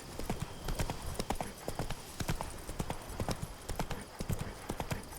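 Hooves of the horse Roach clatter in a fast galloping rhythm in The Witcher 3: Wild Hunt, Blood and Wine expansion, steady and continuous against a faint game ambience, with no talking.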